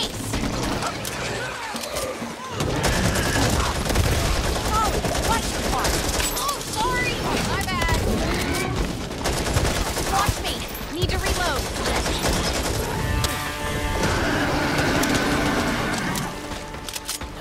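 Dense gunfire in the zombie shooter Back 4 Blood: loud, nearly continuous rapid bursts and fusillades up close, mixed with chaotic game effects and voices calling out between shots.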